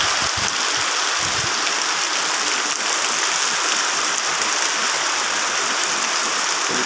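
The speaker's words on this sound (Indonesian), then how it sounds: "Ayat sekarang hujan di kampung saya." Heavy rain pours down in a village during flooding, with a dense, constant roar of rainfall like rushing water, loud and unbroken throughout.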